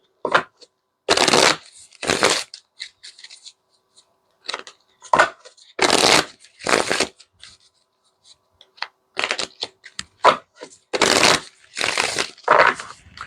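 A deck of playing cards being shuffled, with short bursts of riffling and flicking snaps separated by silent gaps, close and crisp, with no talking.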